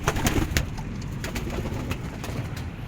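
Domestic racing pigeons in a loft coo steadily at close range, a soft continuous murmur of overlapping low calls with a few sharper flutters or clicks, no talking.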